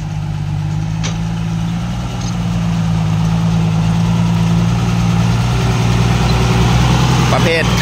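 A wheel loader's diesel engine idles and moves about a construction site, producing a loud, continuous low drone that swells slightly partway through, with faint clanks and a voice talking over it.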